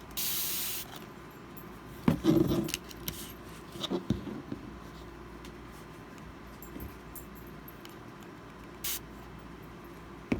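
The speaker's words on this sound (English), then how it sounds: "So all I've got is my water spray bottle." Short hissing bursts from a spray bottle, a few quick squirts close by, separated by quiet pauses and small handling noises.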